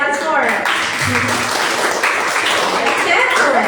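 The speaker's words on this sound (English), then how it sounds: "give applause for Nasya again once more" Steady applause from a school audience at a student conference and showcase fills the whole stretch, dense and fairly loud, with voices mixed in underneath.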